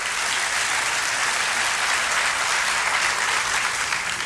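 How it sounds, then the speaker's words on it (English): Sustained applause from a large crowd at the Nixon Library, dense and even clapping continuing loudly throughout without pause. "We have a policy of not holding our applause at the Nixon Library"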